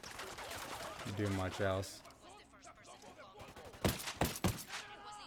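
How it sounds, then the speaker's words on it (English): Sniper rifle shots ring out in Ghost Recon Wildlands, a few sharp cracks clustered near the end after a stretch of someone talking. "Apparently this sniper rifle doesn't kill in one shot anymore."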